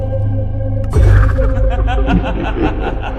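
A distorted, eerie cackling laugh from a Minecraft ghost breaks in over droning game background sound, warbling and echoing for a couple of seconds.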